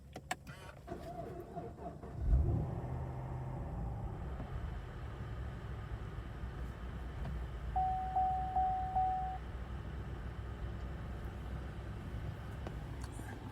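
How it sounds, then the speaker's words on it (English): A Holden V8 Commodore, the last of its line, starts with a sudden loud cranking burst and then settles into a steady, deep idle rumble. A short run of electronic chimes sounds partway through the idle. "So, start it, you put your foot on the brake, foot on the clutch, make sure she's in neutral."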